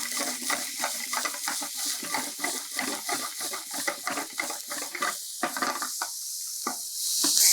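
Water is poured into a pan of cooking chicken pieces with garlic and pepper, making a run of splashing, bubbling bursts with pot clatter and brief pauses.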